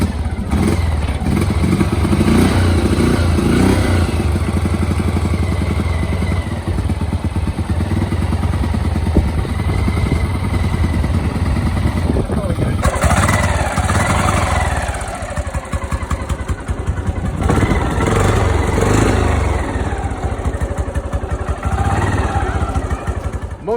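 A motorcycle engine loudly rumbles and idles steadily, with a few revving surges and clattering mechanical noise throughout.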